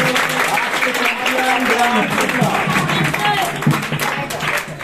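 An audience at a school quiz-show competition claps loudly and continuously for the correct answer, the applause filling the room while voices talk over it.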